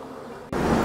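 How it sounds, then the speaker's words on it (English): Honey bees buzzing around a new hive as they circle, a steady close hum that jumps suddenly louder halfway through and stays dense to the end. "The bees are circling around."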